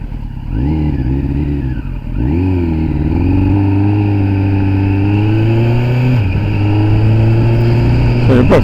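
A Kawasaki ZX10R superbike engine idles and revs loudly up close, rising and falling through a few blips before holding a steady, rough high-rpm drone, with a brief dip and a final sharp rev.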